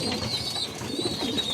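Pigeons coo in a newly built loft, with soft, throaty rolling calls close by over a faint background hum.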